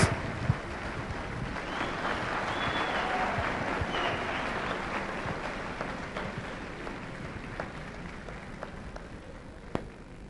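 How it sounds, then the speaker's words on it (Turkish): A concert hall crowd at the 1996 Turkvision contest in Istanbul applauds Tatarstan's entry, a sustained, somewhat distant wash of clapping with a few sharper claps standing out. "Bir alkış"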